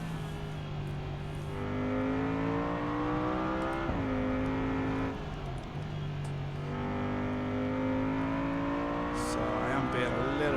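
A race car laps the Nürburgring in BeamNG, its engine droning and rising and falling in pitch through gear changes, with someone talking steadily over it.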